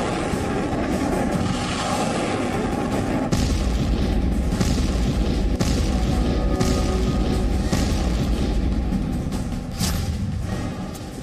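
Aerial bombing in the Russia–Ukraine war near Kyiv, heard as a steady heavy rumble punctuated by several dull booming blasts, loud and sustained without speech.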